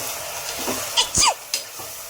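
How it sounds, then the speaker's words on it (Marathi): Peas, cauliflower and potato stirred in a pressure cooker for veg pulao, a low sizzle broken by a few sharp scraping and clanking strokes of the spoon, with no one talking. "बटाटा आपण टाकून घेऊया मिक्स करून घेऊया"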